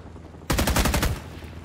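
A single rapid burst of SMG or machine-gun fire in Rising Storm 2 breaks out after a quiet moment, loud and close, rattling off about a dozen quick shots over under a second before fading into background noise.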